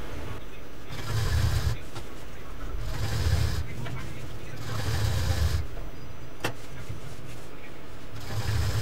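A sewing machine stitches a pink shoulder bag in short, regular bursts of whirring about a second long, separated by brief pauses.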